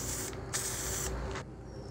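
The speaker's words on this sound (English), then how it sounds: "just do a quick spray of some glue and then lift up and put in place" Spray adhesive hisses out of an aerosol can in short bursts while heater box seals are glued in place on a 1968 Dodge Charger, with three close, steady sprays in quick succession.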